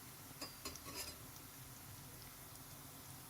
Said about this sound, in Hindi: चम्मच मुस्तकिल चलाएंगे ताकि बहुत अच्छे से गोल्डन ब्राउन हो जाए